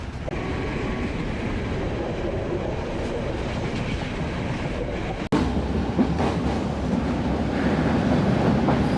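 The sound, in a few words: train accelerating on Sri Lankan railway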